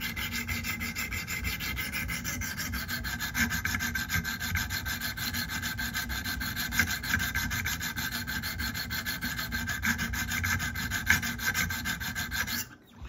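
A knife blade is rubbed steadily over a sharpening stone to set its bevel, producing a continuous gritty scraping with rapid back-and-forth strokes, close and fairly loud, running unbroken without any talking.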